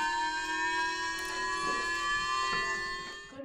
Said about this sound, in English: announcements and sirens called on citizens to evacuate